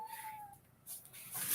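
A cat meows a few times, fairly quiet and a little distant, in a room during a casual conversation recording, with short gaps between the calls.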